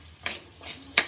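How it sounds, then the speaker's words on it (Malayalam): Shallots, green chili, ginger and garlic fry in hot oil in a pan, with three short bursts of stirring and sizzling close by. "അപ്പം ഇതിലേക്ക് ഇടുന്നത് ചെറിയ ഉള്ളി, പച്ചമുളക്, ഇഞ്ചി, വെളുത്തുള്ളി ഇത്ര സാധനം നന്നായിട്ടൊന്ന് മൂപ്പിച്ചെടുക്കുവാണ് നമ്മൾ."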